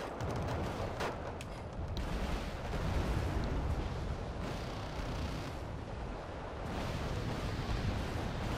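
Bombs and rocket artillery pound a forest in the war strategy game Wargame Red Dragon, forming a dense, unbroken roar of blasts and rumbling impacts that stays loud and steady throughout, with no voices.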